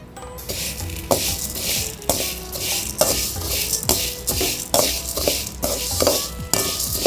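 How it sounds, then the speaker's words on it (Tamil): Urad dal roasting dry in a pan while being stirred, giving a steady, close rhythm of gritty scraping and rattling grains, with regular sweeps of the spoon and faint sizzling underneath. "முதல் உளுந்து போட்டு வாசம் வர வறுத்துக்கலாம்"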